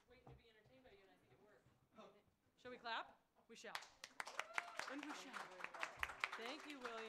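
Audience claps and applauds at an open mic night, breaking out after a spoken thank-you and carrying on as loud, irregular claps under a little background talk.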